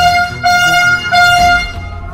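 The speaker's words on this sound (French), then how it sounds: "Je prends la trompette les gars et je vais klaxonner" A loud air horn blares at sea in long sustained blasts, roughly three honks with short breaks between them, tonal and brassy over a low rumble.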